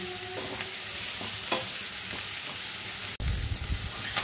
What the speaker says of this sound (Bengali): এটা এরকম করে বেশ ভালোভাবে ভাজা হবে।